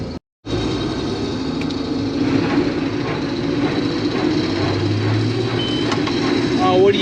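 A vehicle's reversing alarm beeps during a wheat harvest, set against the constant rumble of farm machinery, with a person talking over it.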